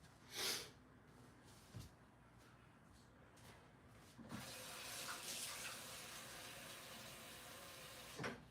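Water poured out for pets, a few light knocks and clatters, then a steady hissing stream that runs for several seconds and ends with a soft thud.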